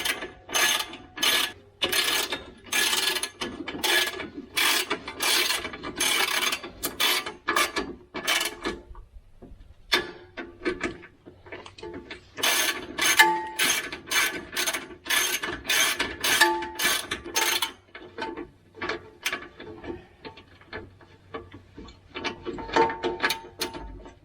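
Hand ratchet clicking in quick rhythmic runs while tightening bolts on a Chevrolet Colorado transfer case, close and crisp, with short pauses between bursts.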